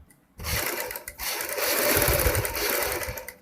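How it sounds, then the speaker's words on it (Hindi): After a short quiet moment a sewing machine starts up and runs in a fast, steady whir, stitching around the edges of a boat-neck kurti neck piece. "इसके चारों साइड किनारी पे सिलाई लगानी है"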